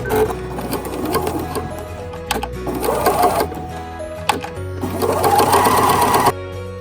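A sewing machine stitches a pocket onto a hoodie about 1/8 inch from the edge, its motor whirring loud and close in several runs with brief pauses between.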